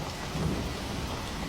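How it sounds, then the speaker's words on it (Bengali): A nighttime thunderstorm in the month of Baisakh, with heavy rain pouring steadily and a low thunder rumble swelling briefly, dense and continuous with no voices. "বাবা, দেখছো কেমন ঝড় বৃষ্টি শুরু হয়েছে? আর কি জোরে জোরে মেঘ ডাকছে"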